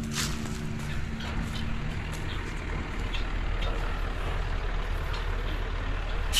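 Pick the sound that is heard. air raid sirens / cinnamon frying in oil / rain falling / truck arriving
truck arriving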